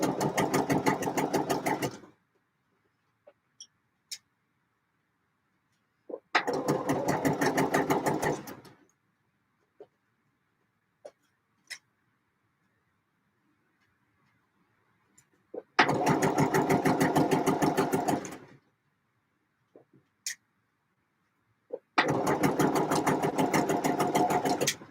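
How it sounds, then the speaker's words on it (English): A sewing machine stitches in four rapid, steady bursts of a few seconds each, separated by quiet pauses with occasional faint clicks. "But this is going to be my last line of stitching in 2023."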